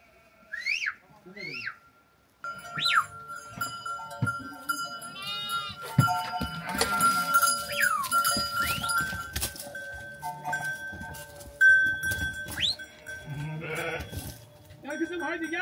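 Several sheep bleat in short, repeated calls in a village barn setting, with a cowbell clanking and someone talking and calling to the animals throughout.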